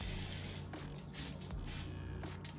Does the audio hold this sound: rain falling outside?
no